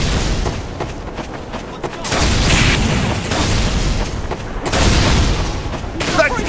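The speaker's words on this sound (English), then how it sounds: "cannon!" Cannon blasts boom repeatedly in a Team Fortress 2 payload match on the Badwater Basin map, loud heavy booms amid ongoing battle noise and gunfire, with voices calling out now and then.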